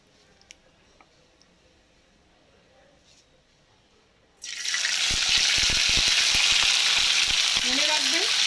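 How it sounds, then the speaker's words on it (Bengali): After a quiet start, chicken pieces go into hot oil over lowered heat, setting off a sudden loud, sustained sizzle with bubbling and a few clinks through the rest of the clip. "একটা একটা করে চিকেন এর মধ্যে দেবো, সব একসাথে দেবো না, 2-3টে করে দেবো।"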